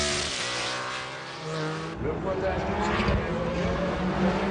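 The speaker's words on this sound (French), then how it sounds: "Et les Porsche qui couvrent en tête le premier tour de cette édition 1996." Porsche 911 GT1 race cars lap at Le Mans in 1996, with engines droning and whining from a distance as a second car's roar cuts in midway. A commentator talks over the racing noise throughout.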